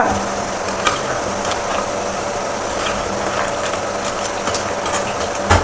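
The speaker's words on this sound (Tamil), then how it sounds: "கடுகு பொரியுது" Mustard seeds splutter in hot oil, a dense, steady crackle of tiny pops and clicks, loud and close, with no talking.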